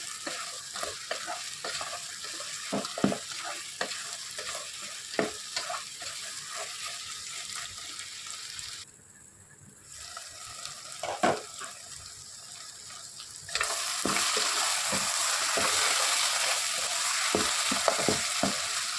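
Garlic and ginger fry steadily in a pan as the base for a mutton curry, a continuous close sizzle with frequent stirring clatter, a short quieter lull, then a louder, brighter hiss for the final stretch.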